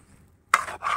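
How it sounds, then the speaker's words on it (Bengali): Grated coconut is stirred and scraped as it fries in a pan for homemade coconut sweets in a village kitchen, with two bursts of close, scratchy scraping after a quiet start. "ভালো করে নেড়ে চেড়ে এগুলোটা ভাজা ভাজা করতে হবে"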